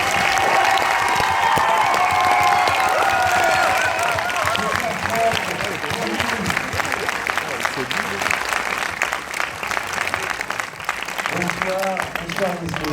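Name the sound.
audience applauding Franck Dubosc's arrival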